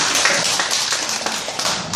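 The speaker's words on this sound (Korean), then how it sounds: "박수 한번 보내주세요" An audience applauds in a church sermon setting, a dense, steady patter of many hands clapping at close range, sustained for the whole stretch without voices.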